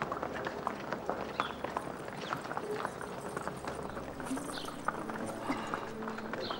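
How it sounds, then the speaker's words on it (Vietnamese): Horse hooves clip-clop steadily amid a busy outdoor scene, the light rhythmic thuds running throughout under a murmur of voices and background bustle. "Bảo Bảo, dắt ngựa cho tổng chỉ huy"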